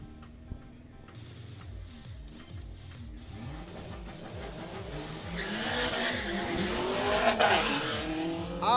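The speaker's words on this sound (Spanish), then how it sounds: "Tremenda la salida de Marito Acevedo." Drag racing cars launching hard off the start line at a national drag meet in Chile, engines roaring and revving up in pitch with tire squeal, loud and close, building to a louder burst near the end.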